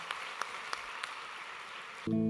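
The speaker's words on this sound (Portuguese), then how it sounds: "a nossa igreja quer dar uma salva de palmas a nossos visitantes" A church congregation at a Sunday baptism celebration applauds visitors, soft scattered clapping with a few sharper individual claps, then instrumental music abruptly starts at the end.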